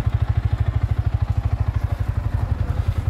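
Motorcycle engine thumping in a fast even rhythm, loud and close, while the bike goes down a steep, deep rocky slope, with a faint clatter over the engine and no voices.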